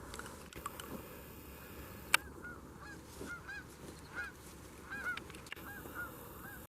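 A flock of field geese honks as the birds fly off outdoors, with scattered, fairly distant calls that rise and fall over several seconds and one sharp click near the start.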